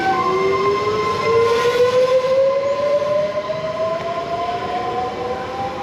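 A train pulls into Santa Margherita Ligure station near Portofino, Italy, its steady rumble joined by rising metallic wheel squeal that carries on throughout; no voices.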